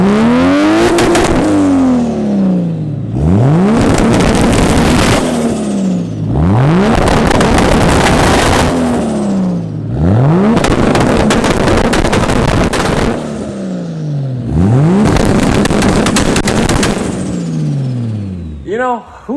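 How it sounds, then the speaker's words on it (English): A Nissan Skyline GT-R engine revving hard during a launch control test: about five loud, close bursts climb sharply and fall away in a repeating rhythm, each rev roaring and crackling before the next. "We're gonna test the launch control now."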